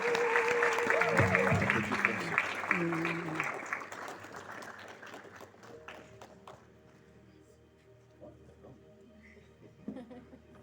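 A wedding crowd claps and cheers loudly, with a voice calling over it; the applause fades after a few seconds into quieter room noise and scattered taps.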